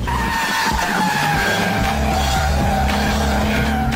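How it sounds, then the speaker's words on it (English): Tyres of a four-wheel-drive VW Golf squeal on a wet road, a sustained skidding screech over steady engine drone, loud and continuous throughout. "It grips so hard that the tyres are squealing, even on a wet road."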